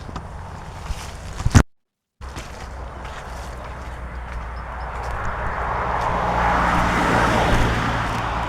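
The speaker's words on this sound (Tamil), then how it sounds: "பார்த்தா வாகனம் போகிறது வாழைச்சேனை போகுது" Road traffic rumbles past outdoors, a steady wash of engine and tire noise that swells as vehicles approach, with a brief dropout early on.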